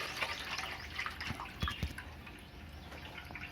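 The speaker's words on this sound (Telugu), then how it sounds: "ఫైనల్గా నీళ్ళను పోసుకోవాలి ఫ్రెండ్స్" Water is poured into a cooking pot for bagara rice, a faint, steady trickling flow with a few small splashes and drips, quiet and close, with no talking.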